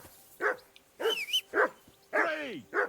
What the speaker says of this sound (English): And my puppy is barking.